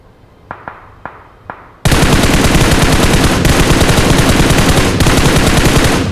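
Gunfire in the mobile game PUBG Mobile: a few spaced single shots at first, then a loud, sustained burst of rapid automatic fire lasting several seconds.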